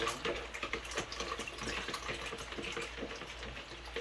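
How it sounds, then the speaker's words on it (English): Water poured into a cooking pot in a home kitchen while making fried cabbage with smoked sausage, a steady running gush lasting the whole stretch, close and fairly even with slight splashy fluctuations. "add some water to the bottom of the pot"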